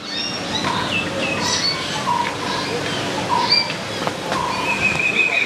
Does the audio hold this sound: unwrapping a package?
no